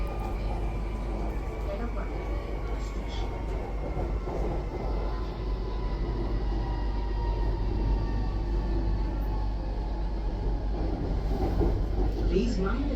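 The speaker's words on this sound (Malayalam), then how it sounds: "ഞാൻ ഈ മെട്രോയിൽ കൊച്ചി മെട്രോയിൽ കയറുന്നത് ആദ്യമായിട്ടൊന്നുമല്ല" A Kochi Metro train running, its steady low rumble and rail noise continuous and fairly loud throughout, with faint voices in the carriage.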